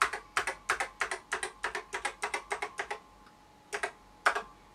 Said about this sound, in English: and then we're gonna just quickly test the keyboard.